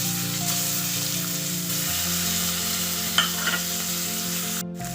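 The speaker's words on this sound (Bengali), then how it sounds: "আমি এই কড়াইয়ের মধ্যে আবার মাছগুলোকে দিয়ে দিচ্ছি।" Fish pieces frying in a wok with turmeric and spices, a constant close sizzle under a low steady hum, with a couple of brief clinks near the end.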